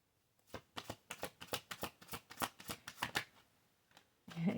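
Tarot cards are shuffled by hand in a quick run of crisp riffling bursts, close and fairly quiet, ending with a brief soft handling noise.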